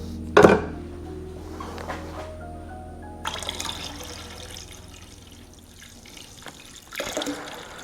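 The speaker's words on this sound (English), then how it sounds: "get your cleaner, pour it in, make sure your valve is closed on the drain" Filter cleaner liquid is poured into a tank with its drain valve closed. A steady watery pour runs under a low hum, with a sharp knock near the start and a brighter splashing stretch later on.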